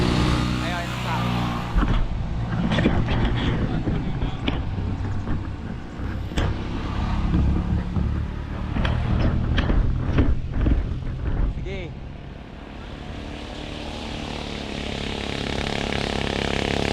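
A motorcycle engine swells and rumbles past close by while excited voices talk over it, then the drone fades into a steady background hum.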